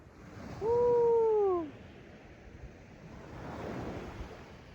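Sea waves wash steadily onto the beach beside the Bang Sare fishery pier at Sattahip, Chonburi, with wind rumble and one brief, loud descending whistle-like tone near the start.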